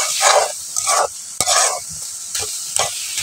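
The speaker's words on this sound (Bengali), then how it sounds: "এই গাজর ভাজাটা হয়ে গেছে" Carrots sizzle in a pan while a utensil stirs them in quick scraping bursts, several strokes with a sharp clack between, close and clear with no talk.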